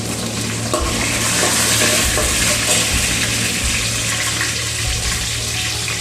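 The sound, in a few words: sautéing onions and green chillies in a pan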